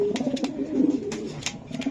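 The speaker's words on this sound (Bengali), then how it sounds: "এটা নর কবুতর ভাই, বুঝছেন?" A young male racing pigeon coos repeatedly, low rolling calls close by, with a few faint clicks and rustles between them.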